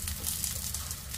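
Poi saag (Malabar spinach) leaf pakodi frying in hot oil, a steady close bubbling sizzle that stays even throughout with no talking.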